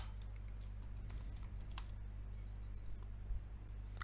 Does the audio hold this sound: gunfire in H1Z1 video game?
no